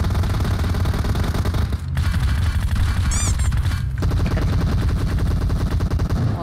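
Sustained automatic gunfire from a PUBG Mobile match, loud and dense with rapid bursts running almost continuously, a brief gap near the two-second mark, and a whistling effect in the middle.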